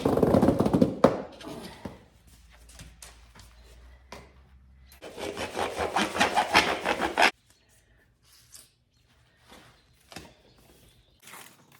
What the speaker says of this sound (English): recut a perforated drain pipe